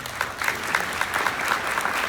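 An audience at a keynote applauds a community member, brisk and continuous clapping from many hands, fairly close and steady for the whole stretch.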